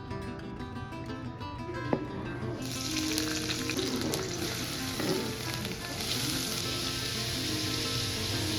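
Chopped onion and green chilli fry in refined oil in a pan with a steady, dense sizzle that swells louder partway through as more goes in, with a brief clink near the start.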